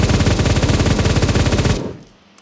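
Sustained automatic fire from a light machine gun in the Roblox shooter Phantom Forces, a dense rapid burst of rattling shots lasting nearly two seconds, loud and close, then cutting off into quiet.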